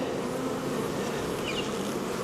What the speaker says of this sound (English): Oh, sorry, bee.